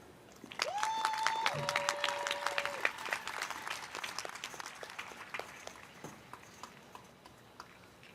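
A commencement audience for the 2021 School of Education graduates breaks into sustained applause, dense clapping building quickly and holding steady before slowly thinning out. A brief whistle-like tone rises early on over the clapping.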